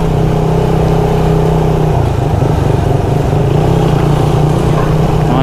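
A motorcycle engine hums steadily up close on a hillside road near Mt. Balimpuyo in Olongapo City, holding a constant droning pitch with a slight shift partway through.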